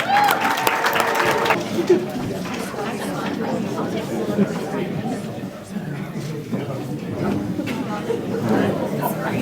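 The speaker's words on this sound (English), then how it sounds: "round of applause for our Novice Sportsman drivers and Nigel" Sustained applause from a banquet audience at a speedway awards night, honoring the Novice Sportsman track champion, steady clapping mixed with crowd chatter throughout, loudest at the start.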